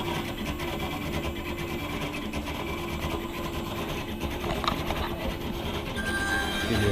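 A 6040 CNC mill with a 4th axis drills down into a workpiece while milling a faux turbine, giving a steady, dense grinding and rasping hum that swells slightly toward the end.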